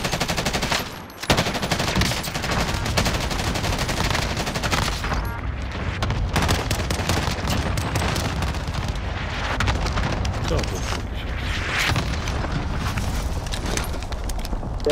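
Dense, sustained automatic gunfire with rapid bursts and blasts, loud and continuous throughout, briefly dipping near the start, like a busy shooter game firefight.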